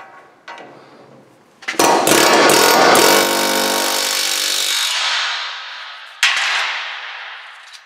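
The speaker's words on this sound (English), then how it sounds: "I'm actually going to use my air hammer and just suck that in a bit." Loud rapid hammering bursts from a pneumatic air hammer on a Toyota Tacoma wheel hub, a long sustained run followed by a short second burst, close up.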